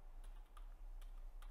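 Keys on a computer keyboard click faintly in a light, irregular rhythm, about half a dozen soft taps over steady low hum.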